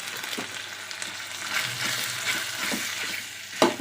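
Mutton with turmeric sizzles and fries in a hot pan while a utensil stirs and scrapes through it, with a sharper clack near the end.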